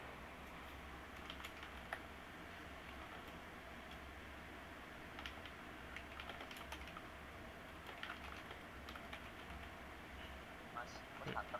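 Quiet, irregular clicking of keys on a computer keyboard ticks along steadily under a low background hum, faint and somewhat distant.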